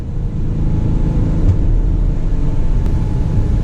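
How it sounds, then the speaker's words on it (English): A Lamborghini Urus, a 600-horsepower SUV, gives a steady, loud engine rumble that builds under acceleration on an open highway, heard from inside the cabin with no talking. "I just want to find an open highway and accelerate."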